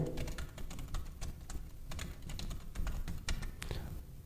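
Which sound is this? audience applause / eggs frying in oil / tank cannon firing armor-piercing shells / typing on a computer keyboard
typing on a computer keyboard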